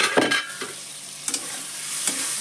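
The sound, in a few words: stir-frying elephant foot yam stalks with spices in pan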